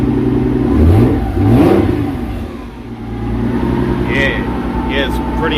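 Nissan March with a twin-turbo VQ35DETT V6 and a new exhaust, revved near 2,500 RPM, rising and falling in loud close blips over a rumbling idle, with a voice talking partway through.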